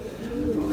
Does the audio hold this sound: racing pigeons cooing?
yes